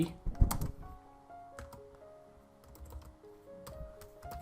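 Java code is typed on a computer keyboard as a quiet, irregular patter of key clicks in short bursts, close and soft, over a faint background hum.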